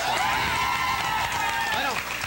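Studio audience applauding Alex Lora of El Tri on a TV show, a dense, continuous wash of clapping and crowd noise with a voice talking over it throughout.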